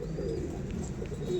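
Andhra breed pigeons cooing steadily in a loft, a continuous low, throaty rolling coo close by with no talk over it.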